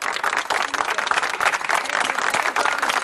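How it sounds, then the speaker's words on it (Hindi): A small crowd at a congratulatory gathering claps in a dense, continuous patter of hands that stays fairly even in loudness from start to end. "वो तालियां मारो यार, ताली।"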